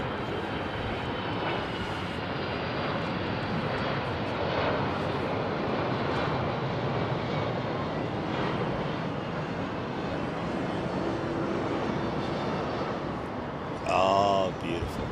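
A passenger jet that began life as a freighter and was later converted, with a nose that tilts up, passes at London Heathrow Airport in windy conditions. A loud, steady roar carries throughout, with a brief sharper sound near the end.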